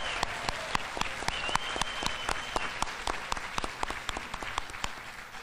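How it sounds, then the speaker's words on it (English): Applause at a support staff awards ceremony: a modest audience claps with distinct, sharp individual hand claps standing out over a softer bed of clapping, fairly close and continuous throughout. "Let's give everyone a round of applause for their dedication and commitment."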